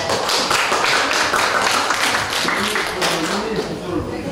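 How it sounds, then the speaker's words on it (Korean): Audience applause welcoming the chairman of a photographers' association to the stage at a photo exhibition opening, a steady, dense wash of clapping sustained throughout, with a voice faintly mixed in. "큰 박수로 모시겠습니다."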